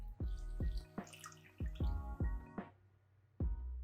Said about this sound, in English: My next step is to soak these rusty details of the object in white vinegar.